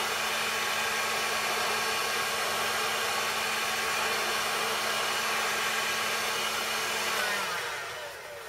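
A heat gun set to level 2 heat and level 2 fan speed blows steadily on shrinking material, a loud continuous airy roar that drops off slightly near the end as the airflow changes.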